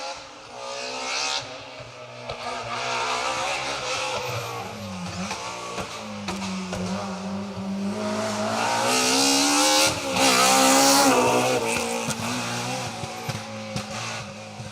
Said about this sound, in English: I love the sight and sound of the E30 M3s